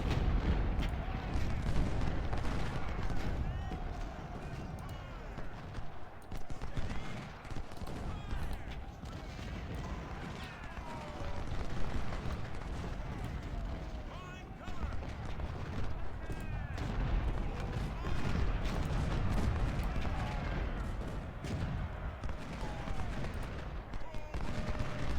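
Massed rifle volleys and artillery fire from a Second Bull Run (Manassas) battle in Ultimate General: Civil War, a dense, continuous roar of musketry and booming cannon at steady loudness for the whole stretch, with a voice speaking faintly underneath.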